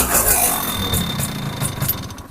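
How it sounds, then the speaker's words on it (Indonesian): An old motorcycle engine with a worn, noisy piston runs rough and close, its knocking, rattling idle uneven and loud before easing slightly. "Mesinnya agak kasar. Ini pistonnya udah mulai bunyi motor ini."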